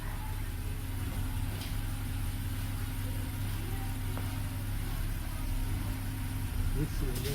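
A 2010 BMW 328i with the N51 engine, which has a small random misfire, idles in a steady, even low hum. The sound stays constant, with faint clicks and slight ticks on top.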